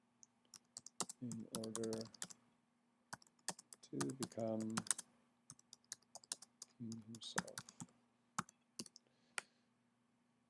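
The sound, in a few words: slow typing on a computer keyboard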